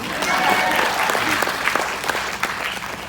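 Wedding guests burst into steady applause at a reception speech, a dense, loud roomful of hands clapping continuously with a few scattered voices in the crowd.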